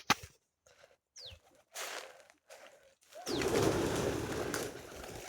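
Pigeons coo at a farm well, several soft low coos and wing flutters in short bursts separated by quiet gaps, followed by a louder sustained rush of flapping and noise near the end.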